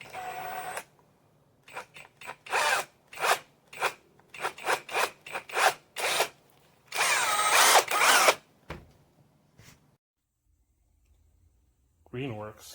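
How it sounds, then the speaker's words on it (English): A Greenworks 24V cordless brushless drill with a 1/2-inch bit bores into a hunk of live oak, whirring in repeated short bursts and one longer grinding run, close and loud, then stopping before a brief voice at the end. "first drilling test, using the maximum 1/2-inch bit. And I'm trying to drill here through a hunk of live oak"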